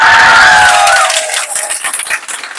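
A short burst of hand clapping from a small group in an indoor classroom-style setting, loud and close, tapering off within a few seconds.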